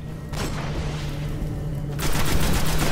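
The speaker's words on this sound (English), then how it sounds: "Yeah, I am using the assault rifle." Assault rifle fire in the Destiny video game, rendered as a steady, dense stream of loud shots that swells louder near the end, with no talking over it.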